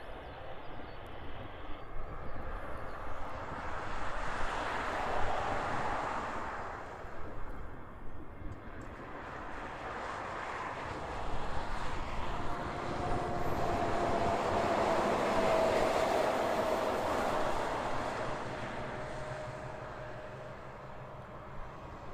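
Hawaiian Airlines jet arriving from Singapore at Honolulu airport, a broad engine roar that swells and fades as it passes at a moderate distance, with no talk.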